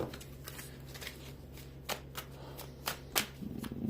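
Playing cards are shuffled and riffled close up, quiet crisp flutters and taps repeating in bursts over a low background hum.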